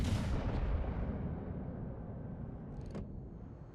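Heavy battleship guns on a US battleship in World of Warships fire high-explosive shells, a deep booming blast that rolls off into a long rumbling decay, with a faint sharper report near the end.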